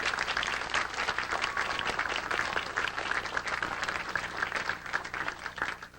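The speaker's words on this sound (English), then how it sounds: "let's give a round of applause to these people" A group gives a round of applause at a workshop gathering, with moderately loud, sustained clapping that runs evenly for several seconds and no talk over it.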